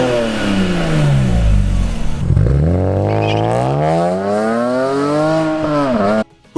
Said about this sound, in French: un 6 en ligne 3 litres 2 avec une zone rouge à 8000 tours minute